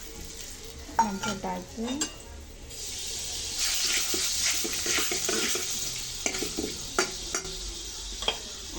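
Whole spices such as cinnamon frying in a pot for biryani, sizzling with repeated stirring clatters and a few sharp clinks, and a voice briefly speaking near the start.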